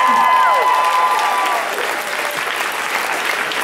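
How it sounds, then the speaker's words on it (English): A crowd at an anime convention's closing ceremony bursts into dense, sustained applause that continues throughout, with a brief microphone feedback whine near the start. "Big round of applause for Group for doing Molotov falling."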